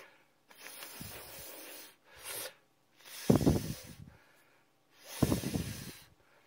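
Breath pushed through closed lips to set a trumpet embouchure, heard as several soft, airy hissing bursts separated by short silences, close and fairly quiet, with no talking.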